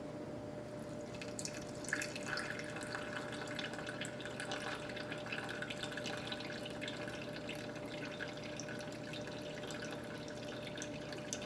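A steady trickle of filtered water poured into a gluten-free sourdough starter container, continuous and soft, with faint drips over a low background hum.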